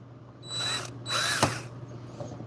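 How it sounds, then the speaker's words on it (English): A power drill boring out brass, two whining bursts of the motor, each lasting about half a second, with a sharp knock between them and a faint tail of rattling afterward. "it is only brass, so it should drill out fairly easily"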